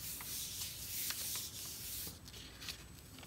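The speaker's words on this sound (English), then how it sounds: "Didn't really line that up so well, but, and then I'm burnishing again" Soft, continuous rubbing as a paper print is burnished by hand on a gel printing plate, close and quiet, with brushing strokes and a few faint taps.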